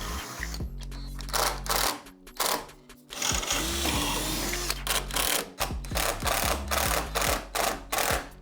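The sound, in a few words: 80mm wood screws being driven into PVC window frame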